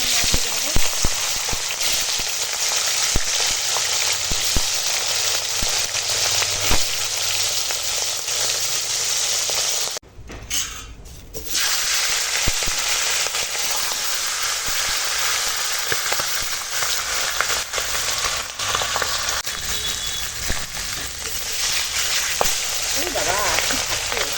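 Hot oil sizzles and fries continuously in a pan while cooking fish head with bottle gourd, a loud close crackling hiss with a brief dip partway through, and a voice talking over it at times.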